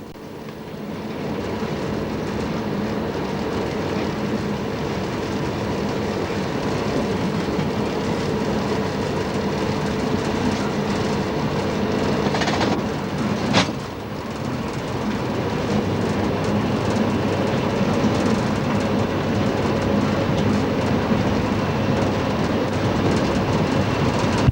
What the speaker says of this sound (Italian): Ed ecco il marciapiede della fermata di Weidegg, dove il nostro treno transita.